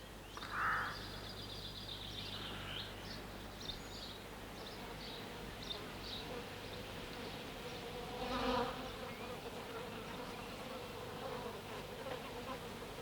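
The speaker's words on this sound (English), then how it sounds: "They must be very interesting creatures. Bees." Bees hum in a steady, dense buzz that fills the whole stretch, a constant insect drone with no talk, one or two brief louder passes and faint bird calls in the background.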